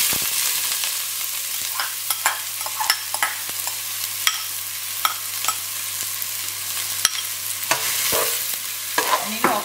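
Onions fry in hot oil for Goan pork sorpotel, a continuous sizzle broken by frequent sharp scrapes and taps of a spoon stirring the pan, over a faint low hum.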